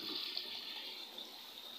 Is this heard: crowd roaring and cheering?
no